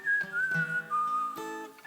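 A person whistling a short tune live on stage at a theatre concert, clear sustained bright notes that slide and shift pitch across about two seconds, close and fairly loud, with faint guitar-like plucks underneath.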